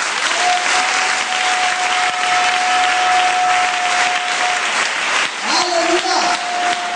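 A church congregation applauding through a Sunday sermon, a dense and loud steady clapping that fills the room, with a voice calling out over it and a sustained tone running through.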